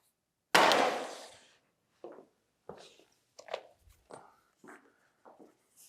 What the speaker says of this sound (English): Next up, we're going to simulate a closed device drop